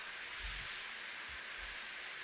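Steady rain falls in the visual novel Slow Damage, a dense even hiss with a few soft low thumps underneath and no voices.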